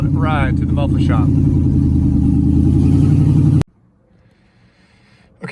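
A Jeep Wrangler TJ with a 5.3L LS V8 swap and loud, unmuffled exhaust drones in a deep, rough rumble for several seconds while driving, with a voice briefly over it, then cuts off to near silence.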